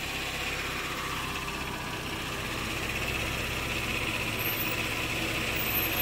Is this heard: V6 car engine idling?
yes